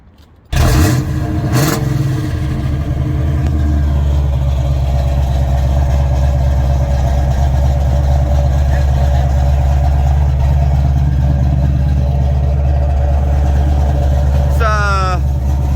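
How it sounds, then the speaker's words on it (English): A 1975 Pontiac Firebird Formula 400 with Flowmasters exhaust starts up and settles into a loud, deep, heavy idle nearby, with a brief rev near the end. "Exhaust with Flowmasters. Got a really nice heavy sound to it."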